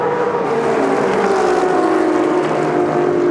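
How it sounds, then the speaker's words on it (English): Ferrari and Shelby race cars drift out of the last corner in close competition, a loud sustained engine roar with steady high revs and slowly falling pitch, no talking. "Out of the last corner they come, drifting the Shelby."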